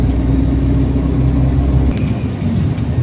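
Road traffic on a street near Nichols and Magallanes in Manila gives a loud, close engine rumble and whir that eases off slightly partway through, with no voices.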